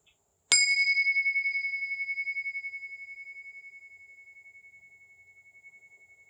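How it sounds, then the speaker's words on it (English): A meditation bell is struck once, and its clear, shimmering tone rings out with a slow beating pulse, gradually fading toward silence over several seconds with no talking. "I'll ring them, just see if you can follow the sound until you can't hear it anymore."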